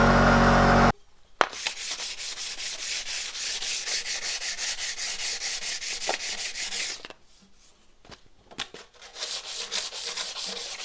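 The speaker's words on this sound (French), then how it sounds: "maintenant on va essayer de poncer ça pour récupérer un truc propre" Dried filler putty being sanded by hand on car bodywork, a rapid rhythmic rasping scrub close up that runs steadily, pauses briefly, then resumes.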